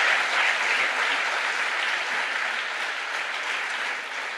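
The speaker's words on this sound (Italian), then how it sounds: "facciamo un applauso a questa fonte" Audience applause at a live talk-and-music event, a thick, even wash of many clapping hands held at steady loudness for several seconds before tapering slightly at the end.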